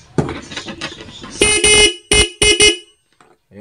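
A stock vehicle horn, restored after a halo switch is discarded, gives a series of loud, close honks, a few short bursts following a brief stretch of clicking and handling noise.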